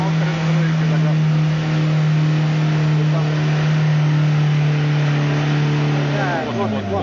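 Car engine held at a steady high rev, loud and close, then dropping sharply near the end as a gear is shifted, with faint voices underneath.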